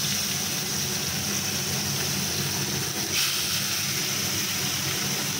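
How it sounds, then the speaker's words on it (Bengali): Fish fries in oil in a home kitchen with the chimney hood switched on, giving a loud, steady, unbroken hiss close by with no talking. "মাছটা একটু ভালো করে ভেজে নিতে হবে।"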